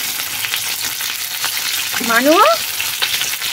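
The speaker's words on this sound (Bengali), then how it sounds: "এই দেখো মাছটা ভাজা হয়ে যাচ্ছে।" Fish frying in a pan, cooked slightly crisp, gives a steady loud sizzle throughout. A brief voice cuts in near the middle.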